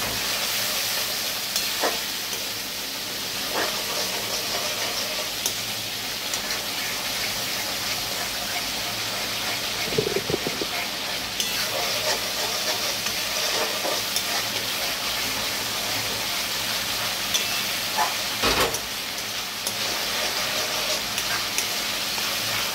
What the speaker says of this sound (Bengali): একটু সময় ধরে এটা একটু কষাবো